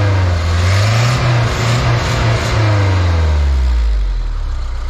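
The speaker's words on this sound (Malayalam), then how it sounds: "അതേപോലെ തന്നെ ഇതിൻ്റെ എക്സോസ് നോട്ടും കൂടെ ഞാനൊന്ന് കേൾപ്പിച്ചു തരാം." Tempo Trax 4WD with a Mercedes-badged Matador engine, its exhaust note a loud, smooth low drone that rises with a rev and then settles back toward idle, close by with no talking.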